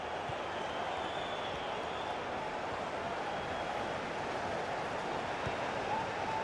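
Steady stadium crowd roar from a FIFA 18 football match, a broad continuous wash of cheering and murmur that holds at an even level with no clear peaks throughout.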